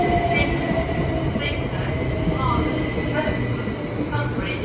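Passenger train at Ashford International station with a steady rumbling roll of wheels and carriages throughout, faint wheel squeals rising above it, heard from the platform while people talk nearby.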